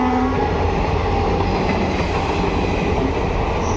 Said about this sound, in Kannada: ಇದೆ ಟ್ರೈನ್.